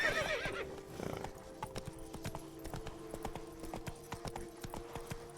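Roach, a horse in The Witcher 3, gallops with steady clip-clop hoofbeats that stay close and moderately loud, joined by a brief whinny near the start over a low game soundscape.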